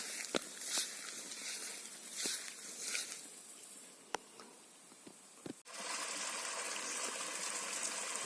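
A small water pump runs steadily in an outdoor container, aerating the water with a continuous bubbling, trickling wash, broken by a few brief sharp clicks and knocks and a slight rise in level near the end.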